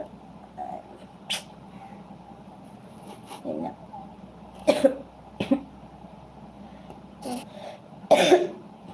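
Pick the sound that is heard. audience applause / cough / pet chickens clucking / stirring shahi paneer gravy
cough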